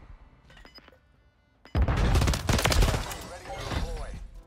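DG-58 rifle firing in Call of Duty MW3, a quiet moment broken by a sudden loud burst of rapid automatic shots that keeps going with crashes and impacts, with a voice talking over the gunfire.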